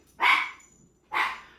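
A dog in a family home gives two sharp, close barks about a second apart, with quiet between them.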